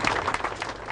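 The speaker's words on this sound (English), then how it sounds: "there was applause for a brave man dealt a bitter blow" Applause at a memorial for Steve Irwin, a steady wash of many hands clapping at moderate volume, heard alone without talk.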